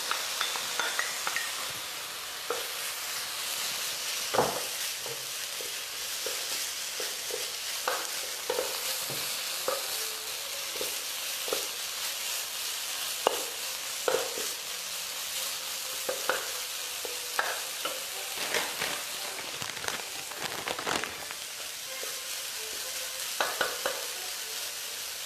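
Vegetables and black or shiitake mushrooms stir-fry in a hot pan for Thai shrimp spring rolls, a steady bright sizzle broken by frequent scrapes and clicks of stirring, close and continuous, with no talk.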